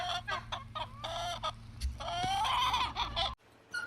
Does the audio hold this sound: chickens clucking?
yes